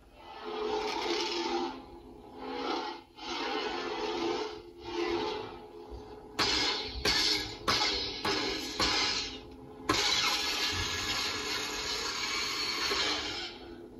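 An OwnASaber NeoPixel Executioner lightsaber with a quickly draining battery gives a harsh, buzzy electronic hum that cuts in and out in bursts, crackling and distorted, then holds steady near the end.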